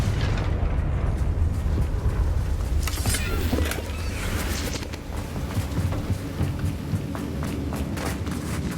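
A Confringo fire spell exploding in the game Hogwarts Legacy, a dense booming blast with rumbling bursts and crackling debris that continue at high volume for several seconds.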